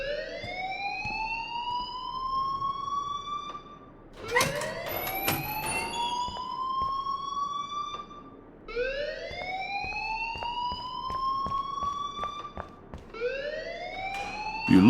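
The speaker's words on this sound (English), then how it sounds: "please turn off that alarm since that's your job" An alarm in the video game Life is Strange wails in repeating rising sweeps, each lasting about four seconds and sounding much like a siren. It stays fairly loud and steady across three cycles with no speech over it.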